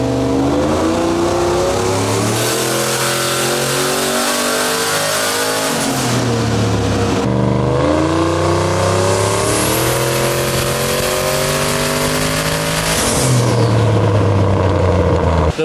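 A turbocharged Silverado engine with a Holley Terminator X setup revs hard on a dyno run, a loud sustained roar whose pitch climbs steadily, drops, then climbs again through the whole stretch, with no talk.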